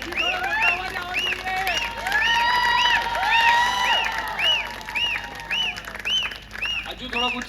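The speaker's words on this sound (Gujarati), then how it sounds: "Round of applause." Guests at a ring ceremony in Baroda clap and cheer for the kneeling groom, with repeated shrill whistles and excited shouts rising over the steady applause of a lively crowd.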